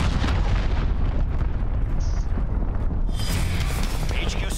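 A cruise missile strike explodes in Call of Duty: Modern Warfare as a loud, sustained, rumbling boom that fills the whole stretch with heavy low roar, with in-game voices and players speaking over it.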